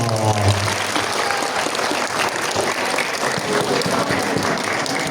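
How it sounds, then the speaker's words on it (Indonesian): A school audience of students at UPT SMPN 1 Kademangan claps steadily and densely in a loud, continuous wash of applause, with no speech over it. "Tepuk tangan dulu dong"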